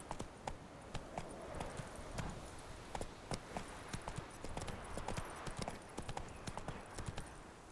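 Roach the horse's hooves in Witcher 3: Blood and Wine, rapid rhythmic clip-clop galloping steadily across the whole stretch, crisp and close, with no speech.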